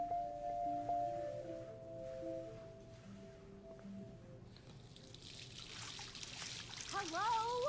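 Running water from the video game Life Is Strange trickles and splashes steadily, first under soft game tones and then louder in a shower-like hiss, with a voice calling out near the end.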